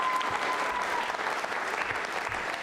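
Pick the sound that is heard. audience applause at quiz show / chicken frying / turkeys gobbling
audience applause at quiz show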